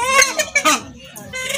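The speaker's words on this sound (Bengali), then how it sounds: "এগুলো খুবই সুন্দর কালিম পাখিগুলো" Purple swamphens kept commercially on a farm call in close, harsh clucking bursts, several overlapping calls over about a second and a half with brief pauses.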